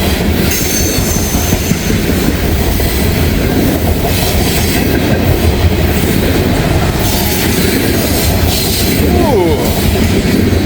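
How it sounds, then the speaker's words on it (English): A loud mixed manifest freight train rolls past close by in the rain, a continuous rumble of rail cars with rattling wheels and occasional squeals of metal on track. "whether it's a grain train or a mixed manifest"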